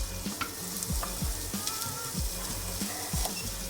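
Onions sweating in butter in a pan give a steady close sizzle, with soft rhythmic scraping as they are stirred.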